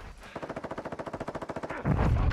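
Rapid automatic gunfire in the DMZ video game, a steady burst of roughly twenty evenly spaced shots over about a second and a half, then a louder, denser crash of noise at the end, with no talk.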